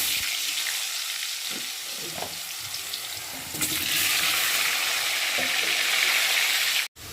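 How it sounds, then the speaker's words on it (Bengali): Potatoes dropped into hot oil in a wok for biryani, a loud continuous frying hiss that swells stronger midway, with faint clatters beneath and an abrupt cut near the end. "আর এখন আমি একে একে আলুগুলোকে দিয়ে ভেজে নেব।"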